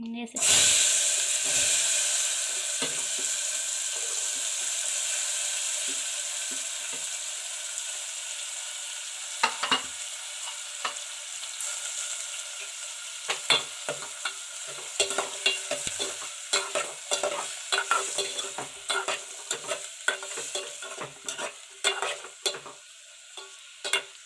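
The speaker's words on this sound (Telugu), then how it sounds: "ఉల్లిపాయలు బాగా వేగాలి." Onions frying and sizzling in a pan for an egg and dried fish curry, a steady hiss with scattered clinks and scrapes of stirring growing more frequent toward the end.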